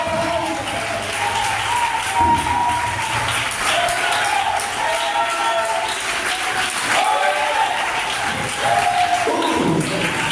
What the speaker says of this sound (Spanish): Ese aplauso triste, y aparte de vos, para el Dios de Israel